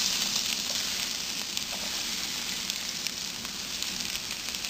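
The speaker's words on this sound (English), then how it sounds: "I will fry this onion till it becomes like golden brown color" Chopped onion frying in oil with whole garam masala such as green cardamom and cloves, a dense, steady close sizzle with faint crackles and no talking.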